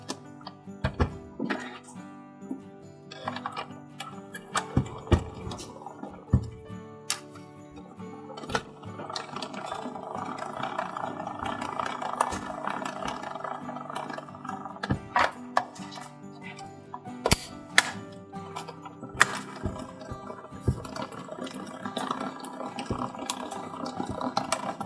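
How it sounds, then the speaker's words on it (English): A die cut machine is cranked to cut paper for a traveler's notebook journal, giving a steady mechanical grinding and ratcheting that builds midway, with sharp clicks and knocks throughout and no talking. "And then we're going to put it through the die cut machine."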